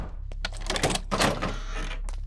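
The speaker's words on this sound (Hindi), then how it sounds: "दरवाजा खोलने में इतना टाइम क्यों लगाया?" A door is opened with a quick series of clicks, knocks and rattling from the latch and frame, close and fairly loud for about two seconds.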